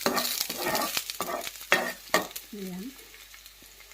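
Garlic dropped into a hot pan for a Filipino vegetable dish, crackling and sizzling with bursts of stirring scrapes, fading to a quieter hiss while a voice speaks briefly.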